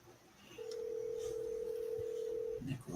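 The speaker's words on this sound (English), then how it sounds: "No, I'm hearing a phone ring." A phone ringing indoors during a game livestream: one long steady electronic tone, faint, lasting about two seconds, with quiet room noise around it and no speech.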